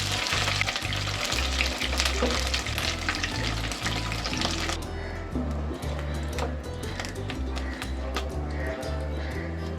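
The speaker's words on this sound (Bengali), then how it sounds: "এই চাপার শুটকিটা এখন ভালো করে ভেজে নিতে হবে" Chapa shutki dried fish frying in a pan, a loud steady sizzle and crackle with a low rhythmic thumping underneath; the sizzle softens partway through and continues without talk.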